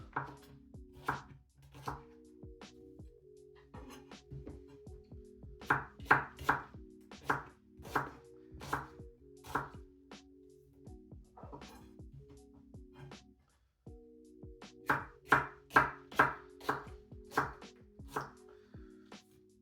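Knife chopping shallots on a cutting board while a mild Thai green curry is prepared, sharp rhythmic taps in quick bursts with short pauses between runs, close and clear.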